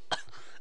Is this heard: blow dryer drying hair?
no